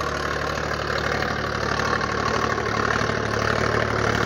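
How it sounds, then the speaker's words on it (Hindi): Sonalika DI 745 tractor engine running steadily under load pulling a 13-tine cultivator, a continuous low, rough diesel drone with faint knocking, close and unbroken, without speech. "दोस्तों अब चलेगा लोड के थर्ड गियर में ट्रैक्टर, तो चलिए चलाइए भैया 1600 RPM पर"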